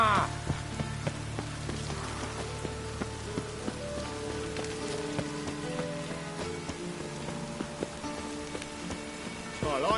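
Steady rain patters on surfaces throughout in The Witcher video game, with a low hum and occasional faint tones beneath it.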